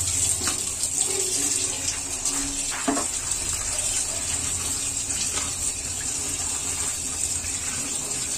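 Chopped onion is washed in a kitchen under a tap, the water running in a steady close gush with faint splashes and clinks as it is handled.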